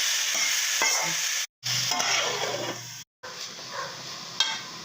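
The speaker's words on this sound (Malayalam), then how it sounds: "ബീൻസും പച്ചമുളകും നന്നായിട്ടൊന്ന് മിക്സ് ചെയ്ത് കൊടുക്കാം" Beans and green chillies sizzle in a pan while a spatula stirs and scrapes them, giving a steady hiss with clinks and two short gaps of silence.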